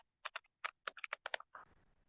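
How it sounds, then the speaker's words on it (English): Keystrokes on a computer keyboard while entering overhead costs into a spreadsheet, a quick run of about a dozen close, crisp clicks in uneven bursts, followed by a soft rustling tail. "I'm just typing what you are watching there and what you guys are looking at"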